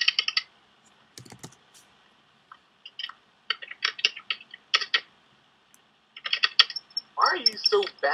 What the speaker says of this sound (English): Why am I typing that?